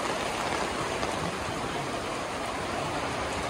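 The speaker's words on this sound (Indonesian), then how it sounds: "hujan, kita ke shelter." Rain pours steadily on a mountain hiking trail, a dense, even hiss that holds constant and fairly loud throughout with no voices.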